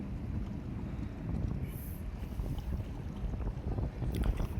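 Speed boats move slowly across open water in the morning, heard as a steady low rumbling wash with wind noise on the microphone, continuous and fairly distant.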